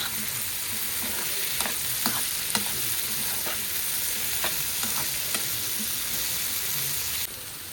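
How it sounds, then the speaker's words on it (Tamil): Potatoes seasoned with salt, turmeric and chilli powder fry in oil with a loud, dense, steady sizzle, broken by occasional spatula scrapes and taps, and the sound eases slightly at the end. "இது எண்ணெயிலே ஃப்ரை பண்ணட்டும்."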